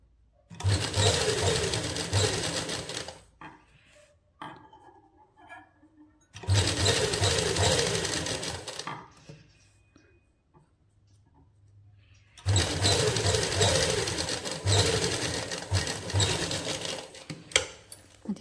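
A sewing machine stitches a seam on a toddler's winter baby suit in three loud, sustained runs of several seconds each, separated by quiet pauses with light handling sounds.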